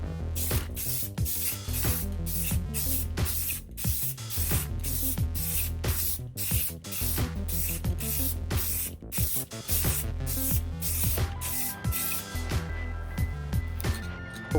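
Spray gun laying a wet third coat of paint onto custom Perrin wing stabilizers for a 2011 Subaru STi, a loud steady hiss in repeated bursts over a constant low background hum.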